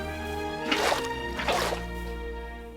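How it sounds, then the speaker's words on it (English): Water buckets being filled in Minecraft: two short liquid sloshing splashes close together, clear and close over a steady background hum. "So let's grab 2 buckets of water."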